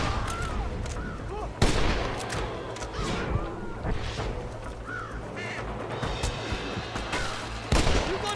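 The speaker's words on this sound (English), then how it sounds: "They're shooting down on us!" Gunfire rattles in a Red Dead Redemption shootout in a cliffside setting, with sharp shots and bursts scattered over several seconds amid crow-like caws and background ambience.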